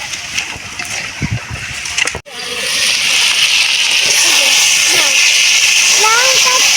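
Water is poured into sizzling duck meat curry being dry-fried at an outdoor family picnic, producing a sharp splash and then a loud, steady hiss that continues to the end while voices murmur faintly.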